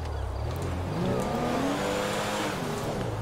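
A car in the video game GTA V accelerates through its gears, the engine note climbing and shifting repeatedly, loud and close with no talk.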